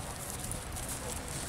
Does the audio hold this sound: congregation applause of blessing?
no